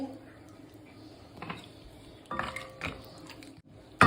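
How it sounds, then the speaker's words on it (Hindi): Cashews are tipped into ghee in a pan for laddus, giving scattered clinks and scraping knocks of nuts and spoon against metal, ending in a sharp rattle. "इसके अंदर अब मैं डाल दूँगी मेरे सबसे इम्पॉर्टेंट इंग्रेडिएंट काजू।"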